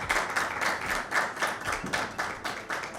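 Audience applause at a Mother's Day mushaira, welcoming a poet to the stage: dense, steady clapping from many hands in a hall, filling the whole moment with no voices over it.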